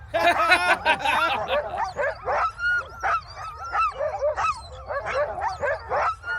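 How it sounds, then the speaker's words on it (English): Sled dogs barking, yipping and whimpering in excited bursts while being hooked up to a sled, several close voices overlapping continuously with a few sharp yelps. "You have to stand here and watch while I hook my dogs up."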